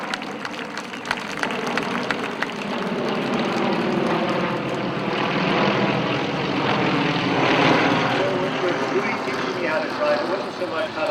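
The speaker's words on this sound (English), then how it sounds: "I'm going to let these planes fly over here" Propeller airplanes pass overhead in a steady, broad engine drone that swells slightly toward the middle and stays loud throughout, with a faint crowd-like wash mixed in.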